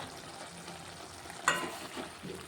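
Spinach curry being stirred in a pan gives a steady low sizzle, with one brief scrape of the spoon partway through and a few softer stirs after it.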